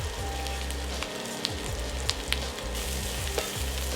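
Chopped bacon fries in a pan, a continuous close sizzle with a few sharp pops and light scraping over a low hum, with no one talking.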